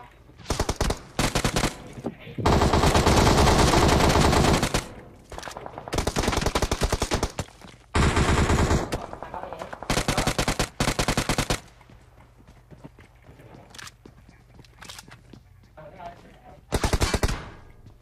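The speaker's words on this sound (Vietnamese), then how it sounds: "Úi ai bắn đấy?" Gunfire in PUBG Mobile on the Sanhok map: long loud bursts of automatic fire in several clusters, interleaved with quieter stretches and occasional single shots, with players talking over the fighting.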